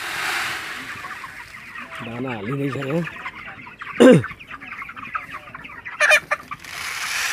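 Sick broiler chickens moved into a separate pen on a poultry farm cluck and murmur in a low, continuous flock chatter, with a few sharper calls and someone talking over them.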